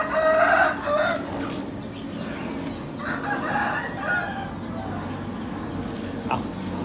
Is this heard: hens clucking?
yes